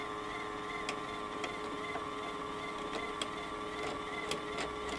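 Toshiba KV-4000 V-Cord VCR, with its capstan running, gives a quiet, steady mechanical whir and hum, while several sharp clicks and taps from the eject mechanism appear at irregular intervals.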